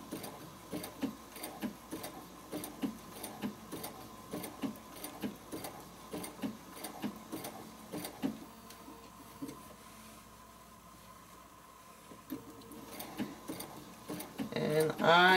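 A sewing machine stitching appliqué for a spider web project runs slowly in short repeated bursts, pausing for a stretch mid-way before resuming, with a voice talking over much of it.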